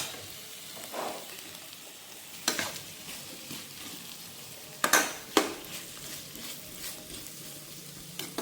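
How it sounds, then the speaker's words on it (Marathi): Kitchen king masala and roasted coconut frying in hot oil in a pan, a soft continuous sizzle broken by several sharp scraping stirs and clinks of a utensil against the pot, with no one talking. "छान असं याला परतून घेऊया आपण"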